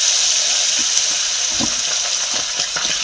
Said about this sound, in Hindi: मैं तो मछली फ्राई करो थे